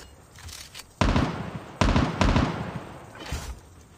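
A grenade goes off in a Call of Duty match with a sharp, booming blast, followed by further heavy explosions in quick succession that die away into low game background noise.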